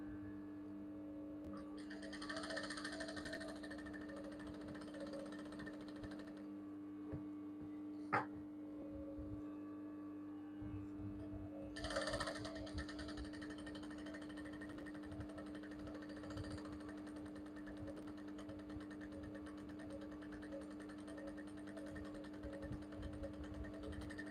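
Domestic sewing machine running steadily as it stitches down a seam on a Basque blouse with a yoke, a continuous mechanical hum with a sharp click partway through and no talking.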